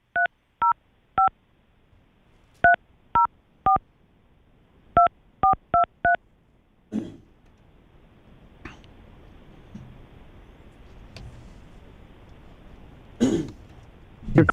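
Phone number dialed by keypad: a quick series of about a dozen clear touch-tone beeps in irregular bursts, followed by quiet room noise, a throat clearing and soft murmured sounds.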